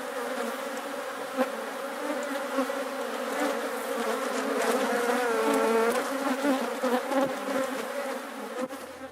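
A dense, steady drone of honey bees buzzing close by at a hive in Huila, Colombia, many insects humming together with slight swells in pitch and loudness.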